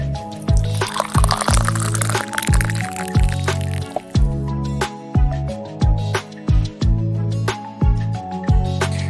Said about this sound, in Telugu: నున్నగా ఎనిపిన పప్పులోకి సపరేట్ చేసి ఉంచిన వాటర్ని యాడ్ చేయాలి.